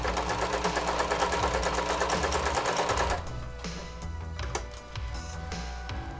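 A sewing machine runs quick straight stitches back and forth on a harness closure, a loud, rapid mechanical chatter for about three seconds, then stops, leaving quieter clicks and handling sounds nearby.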